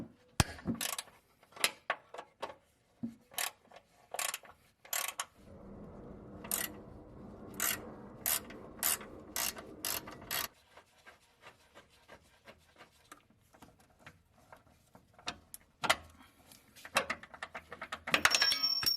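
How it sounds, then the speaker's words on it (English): Ratchet clicks from a wrench loosening two 14mm fasteners on the upper control arms of an Infiniti G35 during a lowering-spring install: bursts of sharp, close clicking alternating with a steady rasping stretch, then sparse ticks. "we're going to go ahead and remove these two 14mm fasteners holding down the upper control arms"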